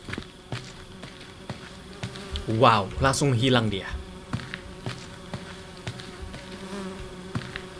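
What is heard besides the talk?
flies buzzing in a horror video game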